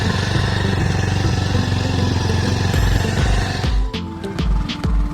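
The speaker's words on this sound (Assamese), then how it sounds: "এনেকৈ বালিৰ মাজে মাজে বাইক চলাই চলাই গৈ আছোঁ আমি" Motorbike ride through sand near the Beki River, the engine loud and close with a continuous rough drone that dips and revs near the end.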